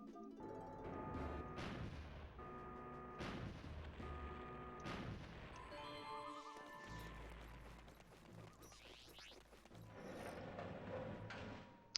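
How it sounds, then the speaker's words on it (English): In the Star Fox Adventures video game, a cannon fires to blow open a wooden door, with several sharp booms and crashes amid mechanical clanks and creaks over game music. "We gotta go to the cannon and blow open this wooden door."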